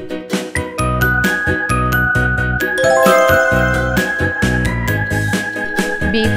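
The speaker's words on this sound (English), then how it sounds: "B for bell" A bell jingles and tinkles loudly in quick, bright repeated strikes, ringing steadily and close throughout.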